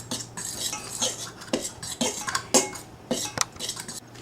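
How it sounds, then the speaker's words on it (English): A fork scrapes and clinks against a bowl while stirring the dry ingredients for pancake batter, making repeated metallic taps and swishes in an uneven rhythm, close up with no talking. "now we're going to mix them up with a fork or a spoon, whichever you like, and stir it around for a little bit"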